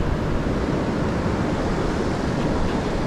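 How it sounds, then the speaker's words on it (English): Ocean waves surge through a rocky shoreline channel at Quobba Station, a loud, continuous roar of churning surf mixed with wind buffeting the microphone. "Waves come straight through here and out that side."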